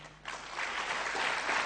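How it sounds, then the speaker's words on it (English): Applause from a conference audience of students swells after a quiet start and holds steady as a dense wash of clapping, fairly close, with no talk over it. "Don't you think it calls for applause?"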